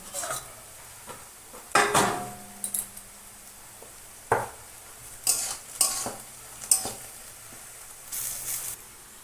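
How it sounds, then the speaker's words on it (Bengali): Chicken meat goes into frying onions in a wok, bringing bursts of sizzling and repeated spatula scrapes and clanks against the pan, spaced irregularly and close up. "পেঁয়াজ ভাজা হয়ে গেছে মাংসটা দিয়ে দিচ্ছি"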